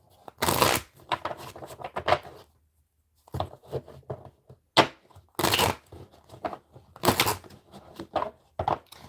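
Tarot cards are shuffled by hand in several quick, crisp riffling bursts separated by short pauses, with softer handling taps and rustles between them, close up and fairly quiet.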